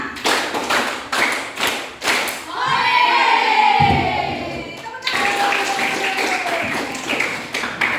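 A class of children claps a one-to-five counting game in quick bursts, then a sustained wash of clapping and noisy crowd sound, with another burst of applause near the end.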